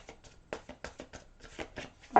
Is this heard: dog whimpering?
no